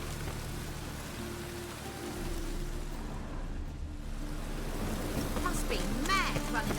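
Rain falls steadily in a Witcher 3 game scene, a continuous pattering hiss of drops on surfaces that grows slightly heavier, with a faint voice-like sound near the end.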